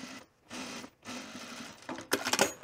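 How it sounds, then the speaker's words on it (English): Sewing machine stitching a seam on a Cashmerette Murcot puffer vest, with short bursts of motor whir separated by brief pauses and a louder, faster run at the end, close by. "I'm just gonna sew it just inside that line"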